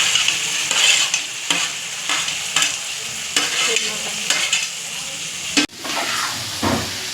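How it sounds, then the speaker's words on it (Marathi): Tomatoes with red chilli powder fry for a sweet-sour tomato chutney, a loud, close sizzle under rhythmic stirring strokes roughly every second, with one sharp knock near the end. "टोमॅटो छान आपल्याला मिक्स करून घ्यायचे आहे।"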